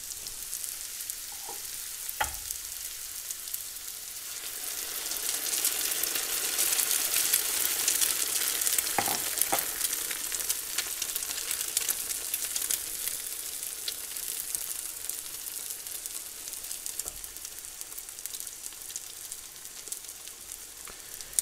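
Squash frittata frying in a pan, a continuous close sizzle that swells and then holds steady, with a few faint clicks of a utensil.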